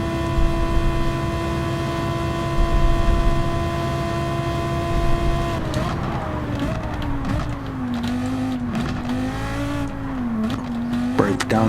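A NASCAR race car at Daytona in Gran Turismo 7 holds a steady high-pitched engine drone at around 170 to 180 mph, then the pitch dips and wavers through shifts and corners.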